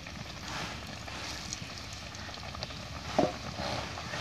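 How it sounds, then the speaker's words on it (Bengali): Raw meat-filled pitha cakes fry in oil with a soft, steady background sizzle, quiet and even, marked by one brief louder crackle near the end and no voices. "তারপর আবার আস্তে আস্তে কাঁচা পিঠাগুলো এভাবে তেলে দেব।"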